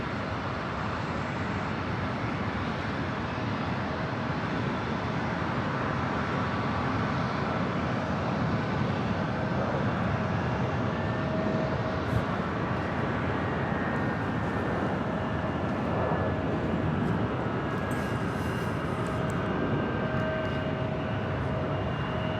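Jet airliner taking off from runway 24 left at Los Angeles LAX airport, a steady, broad engine roar that stays loud and even throughout, with no voices.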